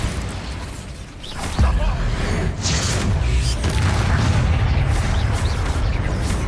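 Bombarda explosion spells cast in the video game Hogwarts Legacy: a loud booming blast erupts partway through, then rumbling impacts and battle noise continue densely to the end.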